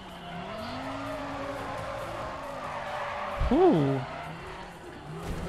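Car drifting in Need for Speed: ProStreet at Infineon Raceway, a steady engine drone under a sustained tire squeal that sharpens into a brief rising-and-falling screech midway, with a player's short interjection.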